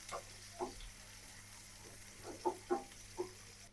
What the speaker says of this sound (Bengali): পেঁয়াজ আর রসুন কুচিটা লাল লাল করে ভেজে নিব।